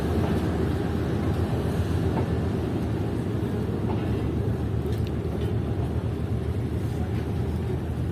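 Chaman Passenger train with three economy coaches and a brake van pulling out of Quetta station among mountains, a steady low rumble of rolling wheels and engine that holds for the whole stretch, fairly close and continuous.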